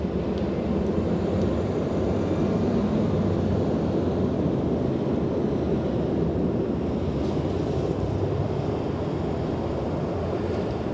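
Embraer E175 airliner at Los Angeles International Airport, its jet engines producing a continuous broad, rumbling roar, moderately distant and steady throughout.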